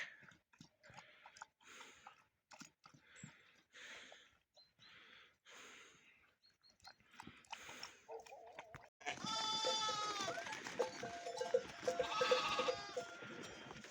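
Sheep bleat repeatedly nearby, loud and overlapping, rising out of quieter scattered sounds earlier on.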